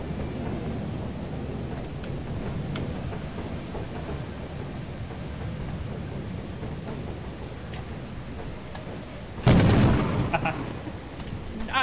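Lightning strike during a storm in the video game Lethal Company: a sudden loud crack and boom near the end, breaking over a steady rumbling rain-and-wind backdrop.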